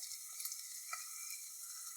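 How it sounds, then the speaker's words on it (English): Steady, faint sizzling of food frying in a pan, a continuous hiss with a few soft stirring scrapes. "Just let it fry."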